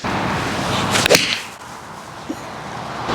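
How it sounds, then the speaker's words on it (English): A single sharp crack of a Ping G440 golf iron striking a ball, close and brief, against quiet outdoor background noise. "it's definite crack off the club face"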